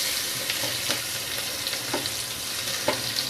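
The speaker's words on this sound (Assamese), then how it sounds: "প্ৰথমতে শুকান জলকীয়া দি দিছোঁ, তেজপাতো দি দিছোঁ আৰু এতিয়া পিঁয়াজখিনি দি দিম" Onions sizzle in hot oil with dried chilli and a bay leaf, a dense continuous frying crackle broken by several light scraping stirs, close and with no talk.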